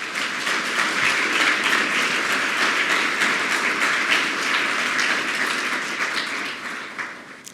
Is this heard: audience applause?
yes